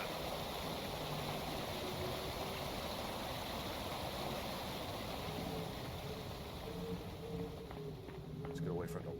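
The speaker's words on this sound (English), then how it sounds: "Let's get away from the loud waterfall." Steady broadband rush of a loud waterfall in the video game Accountant 2, a continuous roar filling the scene, with faint voice-like murmurs beneath it.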